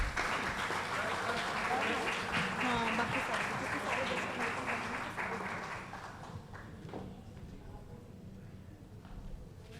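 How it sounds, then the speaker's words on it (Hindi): Audience applause at a poetry awards and open-mic event honoring guests, loud sustained clapping from a crowd that thins and fades over the last few seconds to scattered claps. "जोरदार तालियां प्लीज."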